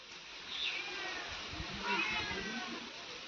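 A cat meows faintly twice in a quiet Odisha village setting, with low background noise and a few muffled sounds around it.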